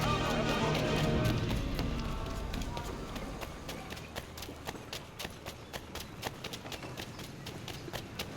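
Horse hooves clip-clop in Assassin's Creed 3 while a character speaks over game music, the steady rhythmic hoofbeats tapping moderately loud and close beneath the voice.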